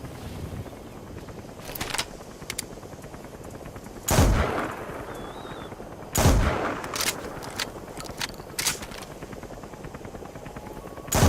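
Combat scene from the game Metal Gear Solid V with a helicopter coming in to land, heavy bursts of gunfire and loud broadband blasts cutting through a constant rotor-like rumble.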